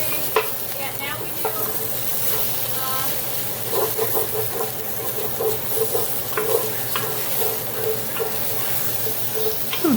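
Celery and tomato paste sizzle and hiss in a hot pan for short ribs, with the steady fry broken by repeated scraping and clacking stirring strokes close by.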